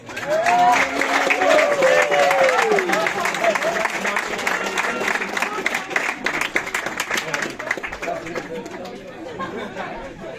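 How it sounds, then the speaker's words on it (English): An audience at a workplace general manager's presentation claps for Nelly, who is being honored as a leader. Steady clapping mixed with loud crowd chatter fills the room and gradually thins toward the end. "Big applause for Nelly, guys."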